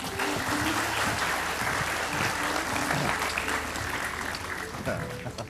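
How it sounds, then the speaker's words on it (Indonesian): A studio audience on an Indonesian TV talk show claps loudly and continuously, dense applause that holds steady and eases slightly near the end, with voices faintly mixed in. "Kasih tepuk tangan sekali lagi buat Demian."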